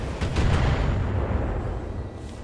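Battletech mechs trading weapons fire: a burst of heavy booming blasts and rumbling impacts that swell early and then decay into a lingering low roar, with no voices.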